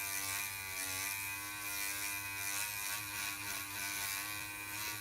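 A small electric sander works back and forth on a dashboard part for a custom Corvair dash, a steady close buzzing whir that holds without pause for the whole stretch.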